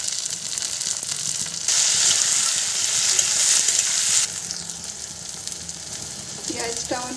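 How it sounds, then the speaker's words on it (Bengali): Onions, capsicum and tomatoes sizzle in a pan while being fried, a steady hiss that swells louder midway as the vegetables go in, with faint stirring scrapes near the end. "দিয়ে একসঙ্গে আমি ভেজে দেবো"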